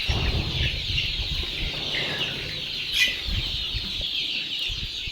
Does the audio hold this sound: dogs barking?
no